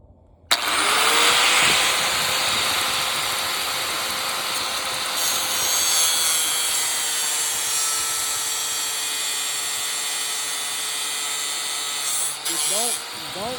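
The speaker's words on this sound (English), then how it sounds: "Don't force the grinder." An angle grinder cuts apart an old television, a loud, close, continuous high whine with a steady pitch that runs for the whole stretch. Near the end a brief shift suggests the blade easing off or binding.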